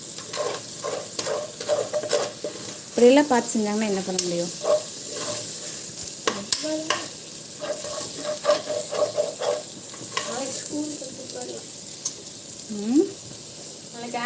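Food for biryani sizzles and hisses in a hot pan while a utensil stirs and scrapes, with people talking intermittently over the frying.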